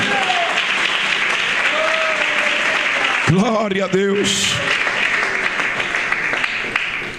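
A church congregation applauding, loud continuous clapping filling the room while a voice speaks out briefly midway over the noise.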